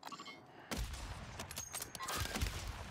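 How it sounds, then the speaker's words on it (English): Gunfire in the shooter game Warzone 3; a dense burst of shots breaks in after a quiet start and continues as a crackling fusillade, fairly faint overall with no talk. "He's shooting me, Luke"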